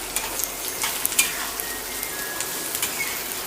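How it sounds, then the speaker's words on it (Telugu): Onion pieces sizzle steadily in hot oil in a pan while cooking a cashew chicken curry, a dense continuous crackle with a few brief louder pops and no talking. "దీంట్లో ఈ ఉల్లిపాయ ముక్కలు వేసుకోవాలి."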